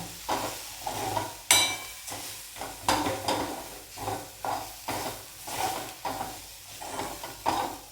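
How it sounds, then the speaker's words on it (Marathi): Pavta bhaji cooking in a pan gets stirred after homemade red chilli powder is added, a steady rhythmic scrape-and-sizzle repeating roughly every half second, close and fairly quiet with no voices. "आता हे सगळं एकत्र हलवते बघू शकता तुम्ही"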